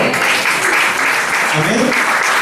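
A church congregation applauds for the Lord during a Spanish-language sermon, a dense, steady wash of many hands clapping that fills the whole stretch, with faint voices murmuring underneath.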